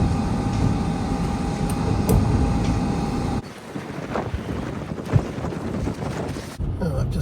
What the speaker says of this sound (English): the squall coming through at the moment.